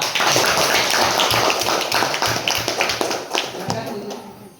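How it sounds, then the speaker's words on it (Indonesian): Schoolchildren in a classroom clap for a classmate, a busy, uneven patter of many small hands close by, lively and continuous with voices mixed in. "tepuk tangan untuk teman kita"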